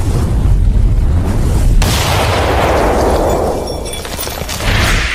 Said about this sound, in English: Oh no! Is the building exploding?